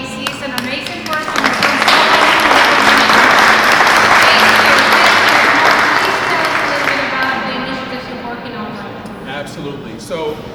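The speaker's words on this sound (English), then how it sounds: "I would like an applause, please, for Mark Hayes." Loud, sustained applause from a large crowd, swelling quickly and then gradually tapering off over about ten seconds.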